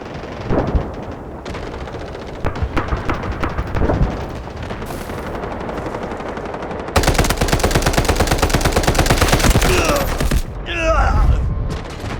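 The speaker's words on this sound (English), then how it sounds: "Artillery barrage incoming." An artillery barrage and gunfire in the Delta Force video game, with dense rapid automatic fire that intensifies midway into a continuous loud rattle, punctuated by heavier booming blasts.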